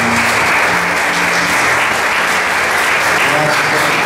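A church congregation claps loudly and continuously in praise during a worship service, a thick, unbroken roar of many hands with voices faintly underneath.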